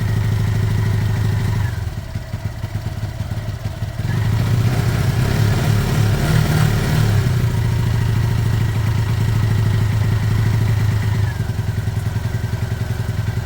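A Lexmoto Michigan 125cc motorcycle engine idles and runs close by with a steady throbbing rumble, briefly revving up before settling back.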